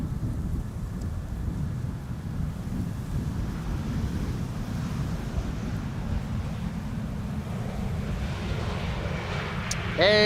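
A TUI Boeing 737 Max arrives at Amsterdam Schiphol Airport, heard as a broad, rumbling jet roar that stays steady throughout, mixed with gusty wind buffeting the microphone, with a brief sharper noise at the very end.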